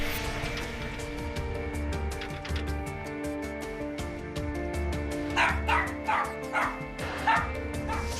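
A dog left alone in an empty, locked shop barks in a run of sharp yips and short barks, fairly close, over background music and a faint voice.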